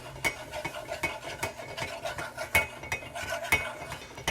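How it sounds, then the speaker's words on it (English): A whisk scrapes and clinks in a pan as flour browns, a quick rhythmic metallic stirring repeated several times per second close up. "I'm now browning my flour. I'm going to keep whisking so I can prevent it from burning."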